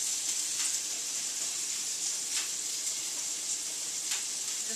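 Vegetables sautéing in butter and garlic in a pan, a constant bright hissing sizzle heard close and steady, with a few faint scraping stirs, no talk.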